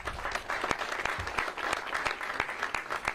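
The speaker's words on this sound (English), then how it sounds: "give these guys a round of applause for the work that they did" A crowd applauds steadily and warmly at the grand re-opening celebration of the River Course golf course at Virginia Tech, with dense, even clapping from many hands throughout.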